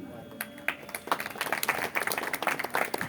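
An audience at a Ram Mandir program claps, starting with a few scattered hand claps and building into brisk, uneven applause that fills the room at close range.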